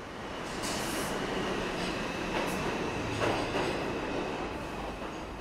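A London Underground Metropolitan line train runs through a tunnel, giving a loud, steady rumble with rail clatter and occasional squeals throughout.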